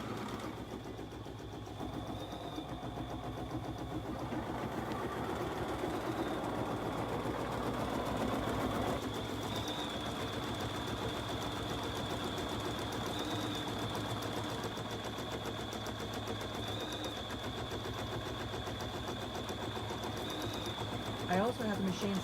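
A Bernina 770QE embroidery machine stitches a Nordic Noel design with a steady, even mechanical whirr and rapid needle chatter running throughout, while a voice talks quietly over it at times.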